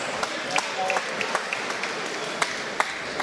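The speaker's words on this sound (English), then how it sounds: "a big and big applause for these two athletes, Ahmed Samy and Jason Wilnis" An audience at a kickboxing fight event applauds the two fighters, moderate clapping heard somewhat distantly with a few sharper individual claps standing out.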